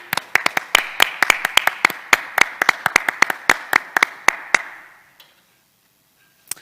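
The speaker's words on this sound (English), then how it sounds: "allow us to give you a round of applause" A small group claps for top attenders at a school P7 prize day and final assembly, with distinct hand claps in a loose, fairly close rhythm for about five seconds before stopping into near silence, then one last lone clap.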